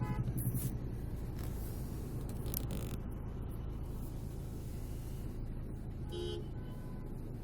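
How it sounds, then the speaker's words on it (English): Road traffic hums steadily around a car in congested driving, with several short car-horn toots cutting through, one near the start and another toward the end. "Traffic is amazing."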